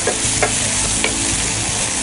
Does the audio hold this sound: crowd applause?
no